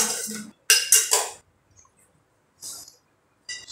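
A hot pan holding fish moqueca is handled, making a few short metallic clinks and scrapes in quick bursts, separated by brief silences.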